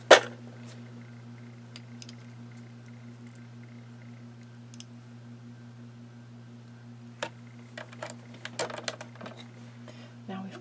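A sewing machine winds a bobbin with a steady, even motor hum that runs throughout, and a few light clicks and taps come near the end.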